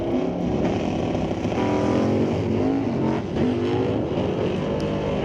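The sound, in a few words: drag race car launching down the strip, doing wheelies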